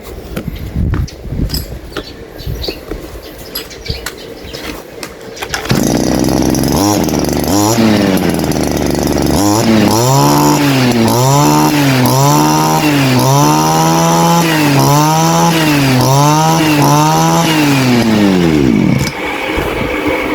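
A two-stroke grass trimmer engine, repaired after failing to start, sputters to life after pulls, then runs and revs repeatedly in a high buzzing whine before cutting off.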